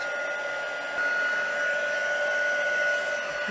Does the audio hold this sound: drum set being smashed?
no